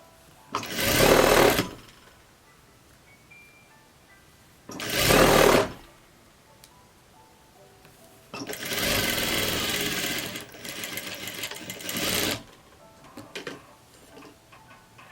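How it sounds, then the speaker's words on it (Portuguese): Sewing machine topstitching viscose fabric for a summer jumpsuit, running in three bursts: two short loud runs, then a longer uneven stretch, with no talk over it. "Então é bom fazer um pesponto."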